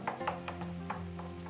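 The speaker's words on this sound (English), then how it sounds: "We want to see it like sizzle and start to splash." Kofta frying in a pan, sizzling steadily with a few sharp splashes and stirring scrapes, close and loud, no voices.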